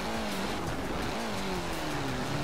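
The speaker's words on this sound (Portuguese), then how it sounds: "Fui desviado do carro e bati na árvore." Car engine droning steadily in the racing video game Forza Horizon 4 while driving through winter scenery, with a sustained mid-low tone that slides slightly in pitch; no distinct impact stands out.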